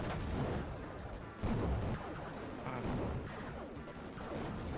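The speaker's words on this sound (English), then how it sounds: "Listen to those resounding sounds of explosion as you destroy everything that moves in the air" Dense, continuous rumbling blasts and crashes from explosions in the DOS game Raptor: Call of the Shadows, loud and relentless, with heavier booms around the middle.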